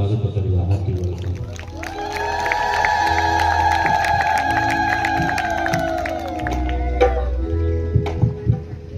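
An audience at a church gathering claps and cheers loudly to welcome a Reverend Father, with a long sustained whoop rising over the crowd noise and voices mixed in.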